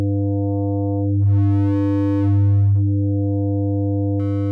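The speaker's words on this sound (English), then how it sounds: "this is what happens with the sine wave" A Reaktor Blocks synthesizer tone is modulated by a sine-wave LFO, so a sustained buzzy note swells and brightens smoothly in two slow waves before a brighter tone enters at the end, with no speech.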